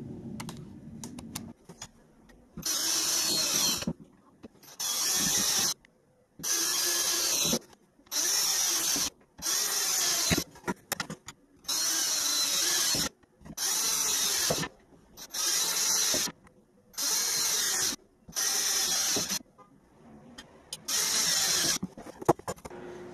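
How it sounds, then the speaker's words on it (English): A power drill bores holes for a DIY LED light build, whirring in about a dozen short, loud bursts separated by brief quiet pauses. "So, let's get this ready to drill."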